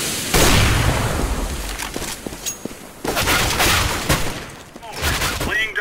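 A grenade blast and gunfire on Mirage in Counter-Strike: Global Offensive: a sharp boom followed by scattered bursts of rapid shots and further cracks, loud and close, with voice chatter mixed in.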